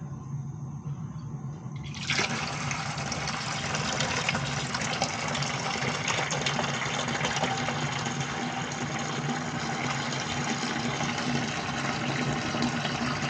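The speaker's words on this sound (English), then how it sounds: "what we're going to do is take some water out of it." Water drains from a steam boiler during control maintenance, a steady loud rushing gush that starts abruptly after two seconds of quieter hum and holds constant to the end, with no talk.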